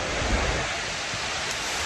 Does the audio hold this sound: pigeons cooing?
no